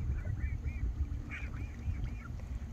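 Geese honk in a quick series of about seven nasal calls at moderate distance, over a steady low rumble of outdoor background noise.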